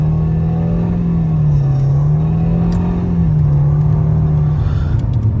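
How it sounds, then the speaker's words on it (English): A 2013 Nissan Altima with a slipping, surging transmission is pushed to accelerate hard, its engine holding a loud, steady droning hum that wavers slightly rather than climbing, heard from inside the car without talk. "So we're going to simply accelerate really fast."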